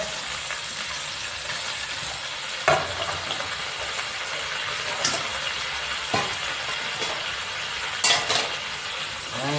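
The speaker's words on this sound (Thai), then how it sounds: "ผักคะน้าลงไปผัดล้วนๆนะครับ ให้เขาหอม ผัดไฟแรงเลยนะครับเนี่ย" Chinese kale stir-fried over high heat in a wok gives a steady, loud sizzling hiss throughout, broken by several sharp scrapes and clanks of the spatula against the pan.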